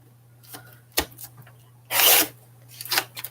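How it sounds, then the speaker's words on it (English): Cutting a 5-inch piece from a floured sheet of dough or clay, heard as a few soft scraping and rasping strokes, including one longer, louder cut near the end, with brief pauses between strokes. "So I'm going to cut a 5-inch piece this way."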